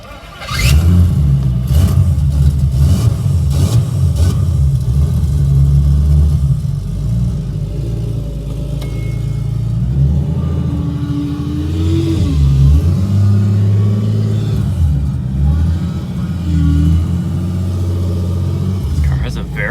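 BMW E46 M3 engine accelerating while driving, a loud low growl rising and falling through revs, with the car's interior noise throughout and occasional talk over it.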